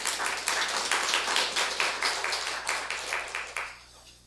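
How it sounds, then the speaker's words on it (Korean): Church congregation clapping in praise to God during a Sunday service, a brisk, rhythmic burst of many hands in even pulses, fairly close, tapering off at the end. "우리 하나님께 영광의 박수 올려드리겠습니다."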